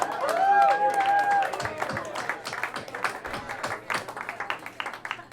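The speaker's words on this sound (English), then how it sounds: "Give yourselves a round of applause right now, please" Audience at a live show applauding, with scattered claps and cheers rising over a sustained held voice or tone early on, then continuing as a ragged round of clapping at moderate loudness.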